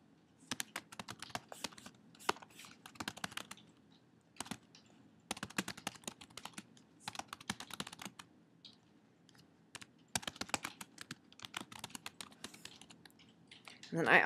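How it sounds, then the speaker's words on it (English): Bursts of keyboard typing, rapid clicking keystrokes in uneven clusters with short pauses between them, fairly close and moderately quiet. "click to begin typing your question"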